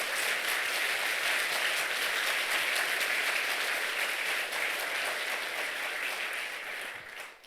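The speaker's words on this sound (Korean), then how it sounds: "우리 하나님께 영광의 박수를 드립니다" Dense, steady applause from a church congregation at an evening revival service, a continuous wash of many clapping hands that holds evenly and tapers off at the very end.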